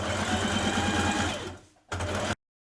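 A sewing machine runs fast and steady, stitching an evening-wear lining a few millimetres inside the seam. It makes a close, even mechanical whir, slows and drops away briefly, then bursts back for a short run before stopping dead.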